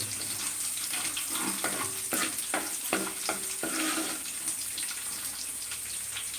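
A steady, bright sizzle of hot oil crackles in a pan while cooking chicken curry, with a few sharp clicks and taps of a utensil partway through.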